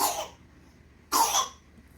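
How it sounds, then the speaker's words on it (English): A sick child with RSV coughing, two harsh separate coughs close to the microphone with a short quiet gap between them, no talk. "I know that cough sounds rough, but we've got it under control."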